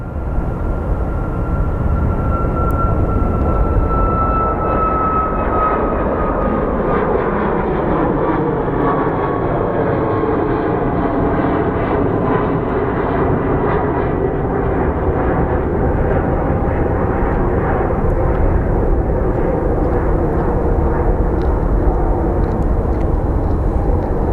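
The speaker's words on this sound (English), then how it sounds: "And we have our Southwest taking off" A Southwest Airlines jet takes off at Phoenix Sky Harbor, its engines a loud, steady roar with a fading whine that holds for the whole stretch, no voices.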